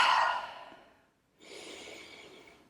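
Slow breathing during a short yoga meditation: one long, airy exhale that fades into silence, then a softer, steady inhale, close and quiet with no talking.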